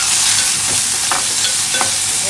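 Dried red chillies and curry leaves frying in a little oil for a Malvani-style raw mango pickle, a steady close sizzle with brief crackling pops and occasional stirring scrapes.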